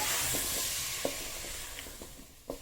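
Potatoes, peas and mixed vegetables frying in a pan, a steady sizzle that gradually fades, broken by several spoon scrapes and taps, with a louder clatter near the end.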